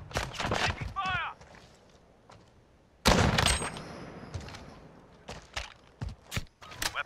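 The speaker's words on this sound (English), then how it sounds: "Taking fire!" Scattered gunshots and impacts in Call of Duty: Modern Warfare 2019 Gunfight mode, with a sharp loud burst midway and lighter shots after, under excited voices talking throughout.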